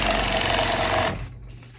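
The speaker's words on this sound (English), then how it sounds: "So I'm just gonna be steady and sewing it down" A sewing machine stitching satin for a hair bonnet, a rapid, even mechanical whirr up close for about a second before it stops abruptly into quiet.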